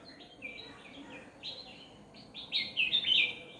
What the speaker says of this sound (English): But you can hear a lot of birds.